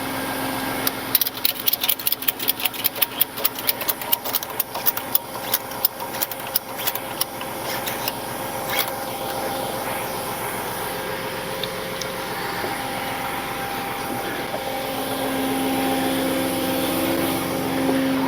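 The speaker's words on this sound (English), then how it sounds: "Turn that loud PTO off." Loud truck power take-off running on a recovery truck during a winching job, a steady mechanical drone with a rapid rattling clatter early on, then settling into a continuous loud whine.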